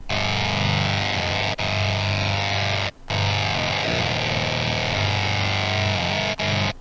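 A buzzy, bright ARP 2600 synth lead through a high-pass filter holds sustained notes with brief gaps, thin in the lows and edgy in the mids and highs.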